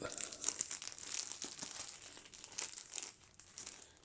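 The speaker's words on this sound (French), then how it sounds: "Bon, on va essayer de déballer ça." Crinkling and tearing of plastic packaging as a Maladum notebook, a small soft-covered carnet, is unwrapped, with close, continuous rustling and crackling bursts and no talk.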